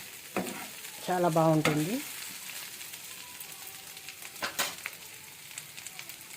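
Taro pieces fry in a pan and get stirred, giving a soft sizzle with scraping stir strokes, while a voice speaks briefly over the cooking noise.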